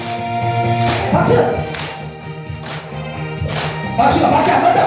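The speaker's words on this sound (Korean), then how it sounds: "박수!" An audience applauds at a singing class concert, clapping in bursts that rise and fall between loud, near passages of a voice and music.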